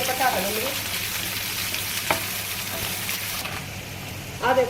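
Garlic and ginger frying in hot oil for a chutney tadka, a steady close sizzle with occasional stirring scrapes and no talk.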